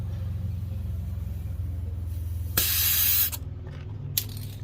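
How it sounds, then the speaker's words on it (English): The split hose of an Avid Power cordless tire inflator lets out a loud, sharp hiss of escaping air lasting under a second, over a steady low motor hum, then a few shorter puffs follow. "The hose just split completely."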